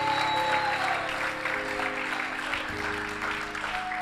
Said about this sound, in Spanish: Dele ese aplauso fuerte al Espíritu Santo